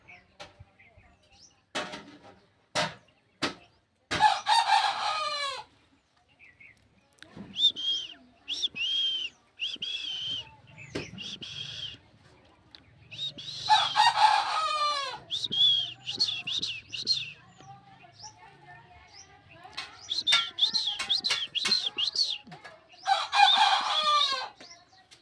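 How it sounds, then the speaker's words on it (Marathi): Rooster crows several times from nearby at a household yard, long rising-and-falling calls repeating across the stretch, interspersed with sharp clicks, knocks and brief quiet gaps. "कोंबडा आहे आमच्याकडे"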